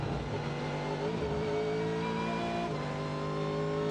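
A race car engine at full throttle on the high banking of turns 3 and 4 at Daytona during the Rolex 24, a sustained droning roar with shifting pitch, steady and moderately distant.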